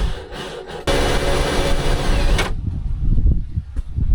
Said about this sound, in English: you're gonna have to push this against my drilling force